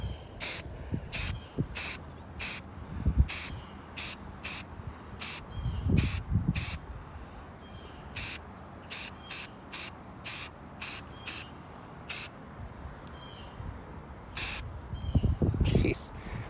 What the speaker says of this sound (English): the wind's going to now push the spray paint towards my camera lens